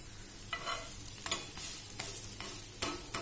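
Thalipeeth flatbread sizzles in a kadhai pan, a steady frying hiss broken by several scraping stirring strokes, close up with no voices.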